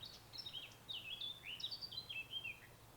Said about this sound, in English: Beautiful little warbler.